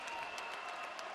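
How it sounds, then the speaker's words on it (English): A packed crowd cheers and applauds at a college volleyball match in College Park, making a dense, steady roar of clapping and shouting throughout the short burst. "The crowd in College Park on its feet."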